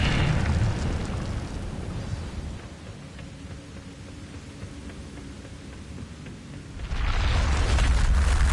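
An Incendio fire spell is cast in Hogwarts Legacy: a loud roaring whoosh of flame bursts out, fades into a low hissing rumble, then flares up again in a second blast.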